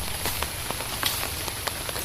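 Rain falls steadily outdoors in a vegetable garden of bottle gourd vines, a constant hiss of drops with scattered sharper patters landing close by, heard alone without talk.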